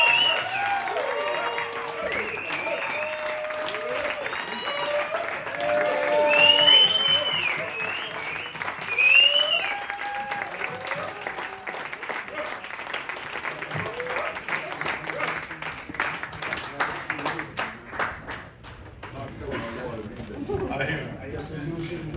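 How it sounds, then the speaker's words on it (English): Audience applause and cheering greet legendary blues artist John Primer at Fitzgerald's in Berwyn, Illinois, a steady crowd roar with whoops that swells early, holds, then tapers off near the end. "Please put your hands together and make a lot of noise for my friend and legendary blues artist, Mr. John Primer."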